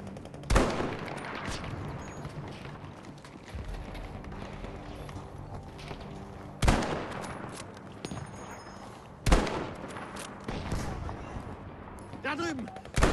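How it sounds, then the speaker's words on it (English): Battlefield 5 Pacific gameplay, with loud bursts of gunfire and explosive blasts breaking out at intervals over a busy, rumbling battlefield background. "Who's that guy shooting at me, man?"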